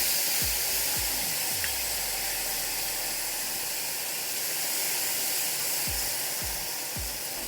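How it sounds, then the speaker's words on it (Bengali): Poppy seed paste frying in a pan, a steady loud sizzle and hiss throughout with occasional faint clinks, close and uninterrupted. "এটা একটু ভেজে নেব।"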